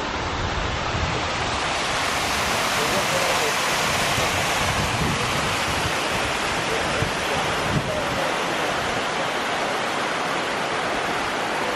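Water pours over a micro hydro dam face into a Coanda screen intake, a loud, steady broadband rush like a small waterfall, constant throughout with no talk audible.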